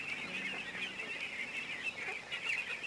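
Chickens cluck and chatter while feeding, forming a faint, continuous flock murmur with no voices.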